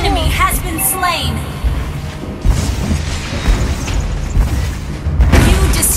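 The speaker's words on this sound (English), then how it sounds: "You destroyed a turret." A turret being destroyed in the mobile game Mobile Legends brings a loud explosive boom and crash mixed into busy battle effects, rumbling low throughout, with game announcer voices over it.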